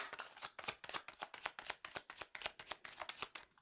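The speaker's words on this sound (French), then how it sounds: "le temps que je bats les cartes" Tarot cards being shuffled by hand, a brisk run of about fourteen rhythmic riffling bursts, close and fairly quiet, with no talk.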